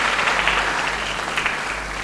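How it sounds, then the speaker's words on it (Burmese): Wedding guests clap together in a dense, steady burst of applause filling a room, sustained for a couple of seconds without any talk. "လက်ခုပ်တီးပေးကြရအောင်"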